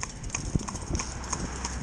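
An Arab horse's hooves clip-clop while pulling a carriage in training, a quick, light rhythm of close taps with faint background noise and a little talk.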